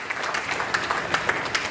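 Audience at a book festival applauding, a dense burst of many hands clapping together, fairly loud and close, lasting under two seconds.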